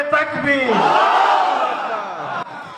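Crowd at a youth rally in Fingri Union, Satkhira, shouting a loud unified takbir chant, one sustained swelling roar of many voices lasting nearly three seconds before cutting off.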